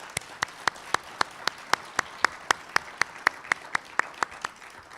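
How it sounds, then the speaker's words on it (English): A small audience claps for the panelists at a Long Beach, California field hearing on debt collection, the sparse, evenly spaced claps sounding steady and fairly close for about five seconds. "let's have a round of applause for them"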